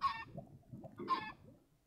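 Chicken clucking in the video game Minecraft, two short clucks about a second apart, fairly close and clear over a quiet background.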